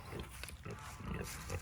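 Hereford breeder pigs on a farm grunting, several short low grunts in quick succession at close range, with faint background noise.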